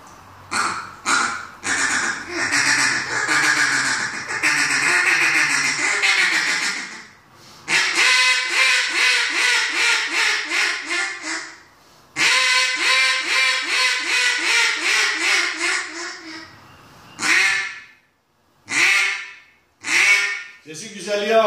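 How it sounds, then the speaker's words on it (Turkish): Reyoka duck call whistle blown in a series of loud nasal quacking calls, long descending runs broken by pauses and then short separate quacks, with no other sound. "Reyok ördek çağrı düdüğü."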